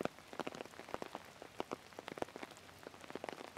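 Rain falling outdoors during a vinyasa yoga session, heard as a steady patter of scattered drops striking a surface close by, soft and irregular with no talking.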